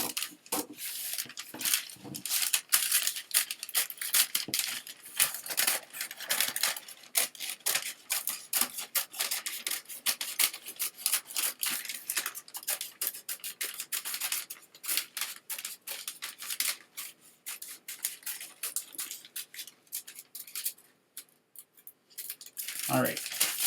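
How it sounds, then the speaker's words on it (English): Scissors repeatedly snip and slide through fabric for a table runner, a steady close run of crisp cuts and rustles over about twenty seconds, with a voice talking quietly at times. "So we'll cut that out. Again, wrong scissors"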